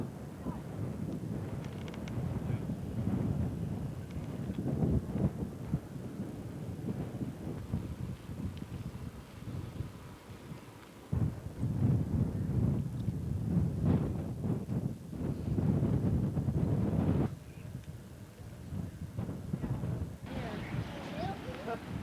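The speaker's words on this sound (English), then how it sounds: "it's very breezy" Breezy wind buffeting the microphone outdoors on open tundra, a loud continuous low rumbling roar that gusts and dips throughout, with a person's voice heard in parts.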